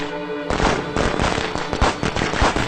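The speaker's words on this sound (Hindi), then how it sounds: "पटाखे कौन दगा रहा है?" A rapid string of sharp crackling bangs, firecrackers going off close and loud in a dense, continuous burst.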